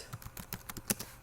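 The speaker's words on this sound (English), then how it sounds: "I might want to also write another line by pressing enter on my keyboard" Quick run of computer keyboard keystrokes, about a dozen crisp clicks at an uneven typing rhythm, with one louder key press near the end, close and alone in a quiet room.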